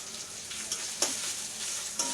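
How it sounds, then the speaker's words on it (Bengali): Onions, chili and spices fry in a pan as the base for a tengra fish curry, giving a continuous close sizzle broken by a few soft stirring clicks, with no one speaking. "পেঁয়াজ মরিচ মশলা দিয়ে ভোনা হচ্ছে"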